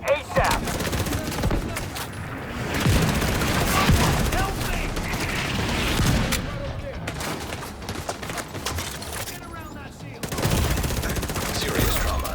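Bursts of automatic gunfire and heavy impacts crackle almost nonstop in the Division 2 shooter game, loud and dense with brief lulls between volleys, and voices speak over the fighting.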